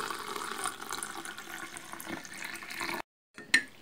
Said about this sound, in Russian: Столовую ложку семян заливаю стаканом горячей воды,